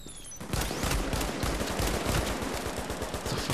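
Rapid automatic gunfire from the video game The Division rattles in a dense, loud, continuous burst of shots lasting several seconds after a brief quieter start.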